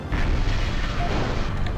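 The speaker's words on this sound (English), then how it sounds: "Look at those missiles just volleying." Missile volleys in the MechCommander video game, heard as a dull, rumbling barrage of booms that blend into a continuous low roar and fade near the end, with no talk.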